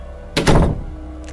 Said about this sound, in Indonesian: ketika membuka pintu tangga darurat itu